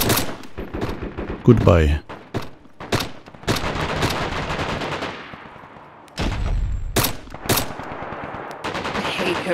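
Gunshots from hip firing in DayZ crack out in uneven bursts, sharp and close, some single and some in quick pairs, while a voice talks briefly between them.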